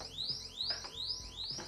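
Repeating rising electronic alarm chirps from a Bambu Lab H2D 3D printer, roughly every 0.6 seconds, fairly loud and steady with faint mechanical background noise.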